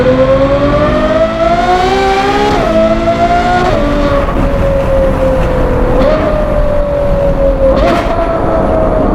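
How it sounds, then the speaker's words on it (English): Ferrari 812 GTS V12 with a Novitec exhaust pulls hard at high revs: a loud, close, shrieking wail that steps through several quick upshifts with crackles between gears and no voices. "it sounds ridiculous with that Novitec exhaust pipe"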